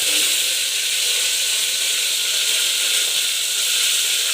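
Mustard seeds and curry leaves sizzle in hot oil for a lady's finger sambar, a loud, close, steady hiss with no talking.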